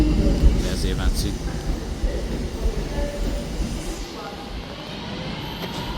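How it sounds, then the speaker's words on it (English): An Avanti West Coast train rumbles steadily through Manchester Piccadilly station, a loud continuous rolling roar with faint clicks of wheels, easing slightly toward the end. "Here's the Avanti West Coast service."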